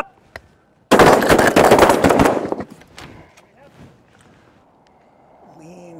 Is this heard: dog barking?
no